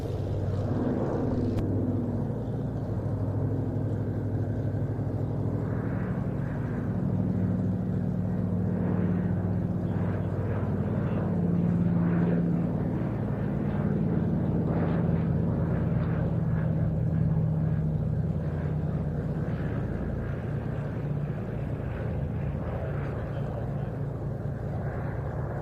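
A patrol bomber aircraft with retractable wingtip floats flies past at an airshow, a steady, loud droning engine rumble filling the air throughout, with a faint voice talking under it.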